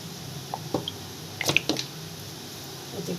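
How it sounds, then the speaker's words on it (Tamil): Cooking oil poured into a heated kadai while making a mushroom gravy gives a few soft, faint drips and squishy liquid splashes, spaced out over a quiet background. "எண்ணெய் ஊற்றிக்கலாம்."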